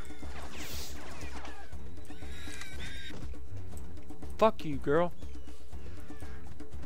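Horse neighing in the Serious Sam 3 video game, two short, sharp whinnies close together amid game action, while someone talks and swears over the top.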